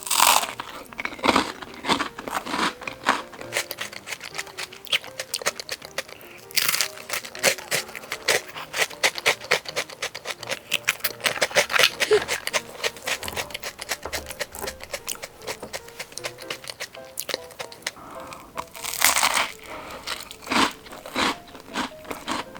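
Rusk topped with milk ice cream bitten and crunched up close, loud crisp cracks and crumbly chewing in a dense, irregular stream lasting over twenty seconds.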